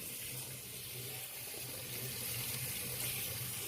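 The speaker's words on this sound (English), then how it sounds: "Now we're cooling our spaghetti off and straining it." Water runs from a tap over spaghetti to cool and strain it, a soft, continuous splashing rush heard alone.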